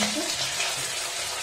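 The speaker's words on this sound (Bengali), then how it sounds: "আমি ফার্স্টে একটা মাংস দিয়ে দেখবো তেলটা হয়েছে কিনা" Chicken pieces fry in hot oil in a kadai, a close, steady crackling sizzle filling the short moment without any talking.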